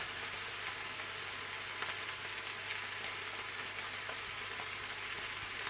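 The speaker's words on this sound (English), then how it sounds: "put some oil in the frying pan" Oil sizzling in a frying pan while cooking a vegan lentil curry, a steady, even crackling hiss that holds without a break, fairly quiet and close, with no voices.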